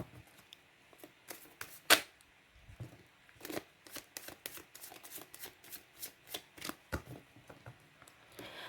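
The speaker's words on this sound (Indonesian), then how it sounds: "sambil saya baca doa dan saya kocok kartunya" Tarot cards are shuffled by hand in a run of crisp riffles and soft taps. The sound is close and quiet, with no talking.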